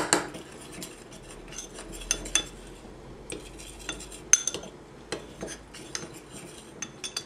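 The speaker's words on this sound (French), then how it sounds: "Et on rajoute. Et on mélange." A spoon stirs starch slurry into jajangmyeon sauce in a pan, producing irregular metallic clinks and scrapes against the pan over quiet background, with no talk.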